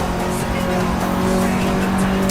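A race car in Assetto Corsa drones steadily at high revs, loud and constant throughout, with tire noise blended into the engine.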